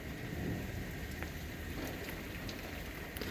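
Heavy rain pours steadily through a nighttime thunderstorm, a dense constant wash of drops with low rumbling underneath and a few sharp crackles, continuous and close with no voices.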